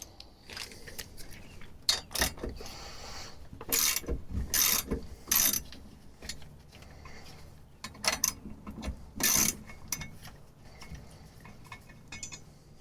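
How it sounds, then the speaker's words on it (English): A ratchet tightens the bolts on an ARB rear differential cover, giving repeated bursts of rapid metallic clicking with short pauses between strokes and occasional clinks of tools and parts. "I'm going to start following this diagram and bolting them a little bit tighter."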